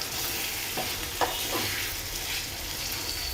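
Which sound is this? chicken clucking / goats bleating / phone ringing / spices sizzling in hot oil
spices sizzling in hot oil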